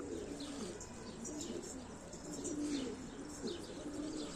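Pigeons coo repeatedly in soft, low, rolling phrases, with a few faint chirps from other birds, a steady outdoor murmur of birds close by and no talk.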